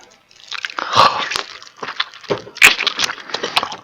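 Close crunchy bites and chewing on a fried chicken leg: a few sharp crackling bites of crisp skin are followed by moist, irregular chewing, all loud and near with no talk.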